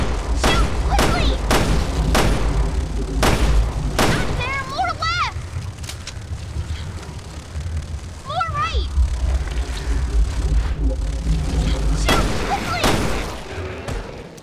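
Gunfire in Resident Evil Revelations 2 against invisible monsters: sharp, loud shots in bursts, several spaced shots, then pauses and a final cluster, with game sounds and squeals between them.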